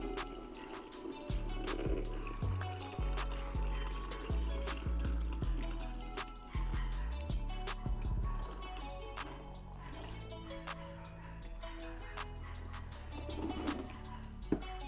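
Engine coolant pours and splashes from a Subaru FA20 engine onto a garage floor, a steady close liquid flow with drips and trickling that continues for several seconds without speech.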